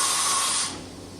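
Kitamura Mycenter HX250G CNC machining center from 2013, BT30 spindle with a 40-tool automatic changer, doing a tool change: a loud pneumatic hiss and whir that drops off abruptly to a quieter hum partway through.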